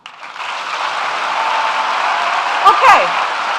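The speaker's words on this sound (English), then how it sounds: "please let me hear you clap" A large audience applauds at a speech, a dense, steady wash of clapping that holds at an even level throughout, with a brief vocal cheer near the end.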